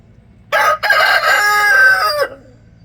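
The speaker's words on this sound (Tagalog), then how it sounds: "Yung isa tilaok ng tilaok" A white rooster in a backyard flock of pet chickens lets out a loud, close crow lasting nearly two seconds, a short first note followed by a long drawn-out call that fades into quiet.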